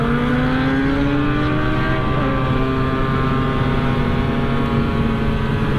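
Motorcycles, including a Yamaha RX 135, RX115, RX100, Kawasaki ZX10R and Honda CBR 1000, ride together on a road, a loud, continuous, close engine drone with shifting tones and no pauses.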